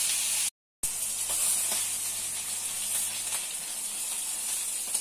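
Salted and peppered pork tenderloin searing in a hot pan, a loud steady sizzle and hiss that runs close and unbroken after a short gap near the start.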